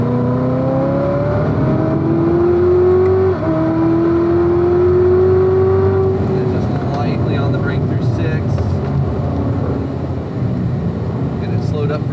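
A Corvette C7 ZR1 laps a race track at the Spring Mountain driving school, its engine a loud, sustained drone rising steadily in pitch as it accelerates, with a person talking over it.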